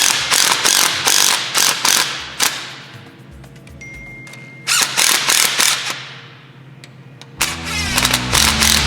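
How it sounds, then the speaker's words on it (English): In a teardown of a 2019-or-later GMC Sierra 1500, an impact wrench runs bolts down in several rapid rattling bursts with pauses between, close and loud, with no talking. "So run these down with the impact, that way we can torque them."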